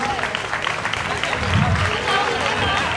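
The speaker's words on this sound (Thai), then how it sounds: "ครับผมขอเสียงปรบมือให้กับ นักเรียนของโรงเรียนอิสลามสันนิชนด้วยนะครับ" Student audience applause at a school drama performance by junior high pupils, a broad wash of clapping mixed with crowd noise and some voices, continuous and fairly loud throughout.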